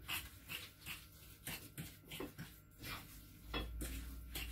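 Banana bread batter gets stirred by hand in a salad bowl, a utensil scraping and knocking against the bowl in repeated close rhythmic strokes with soft wet mixing sounds.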